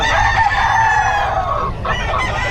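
Chickens at a poultry yard in Bocaue, with a rooster crowing loudly and close while hens cluck throughout, a continuous busy farmyard din with no talking.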